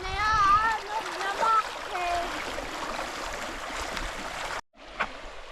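A strong-flowing river rushes and splashes steadily nearby while a bather shouts and whoops over it; the sound briefly cuts out near the end, then returns.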